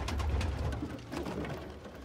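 Pigeon squabs cooing softly at close range, with a few low, brief coos over a quiet background and no talk.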